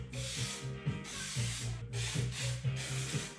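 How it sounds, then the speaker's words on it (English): Bursts of hissing spray from a can of spray adhesive, repeated in several pulses with brief pauses, over a low rhythmic rubbing hum. "I ultimately ended up gluing it down with spray adhesive"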